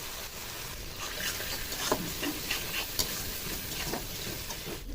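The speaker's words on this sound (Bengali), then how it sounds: "যতক্ষণ আদা রসুনের কাঁচা গন্ধটা না যাচ্ছে, মশলাটাকে একটু কষিয়ে নেবো" Ginger-garlic masala with turmeric sautéing in oil for chicken dum biryani, a close, continuous sizzle with scattered spoon scrapes and light clicks from stirring.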